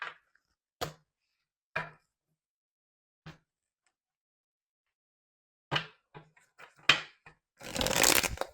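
A tarot card deck being handled: sharp isolated snaps and taps of cards, a few separate flicks spaced out, then a quick cluster of card sounds and a short riffling shuffle at the end, close and clear in a quiet room.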